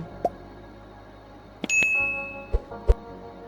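A few short, bright dings ring out sparsely against a quiet background, one followed by a sustained tone.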